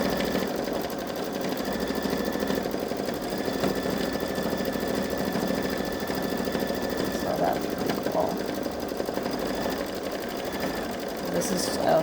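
A Babylock Solaris Vision embroidery machine stitches a Santa and snowman design in light yellow outline thread, giving a steady, continuous mechanical whir with a busy rhythmic hum throughout, under faint background noise.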